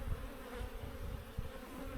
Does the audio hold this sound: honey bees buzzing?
yes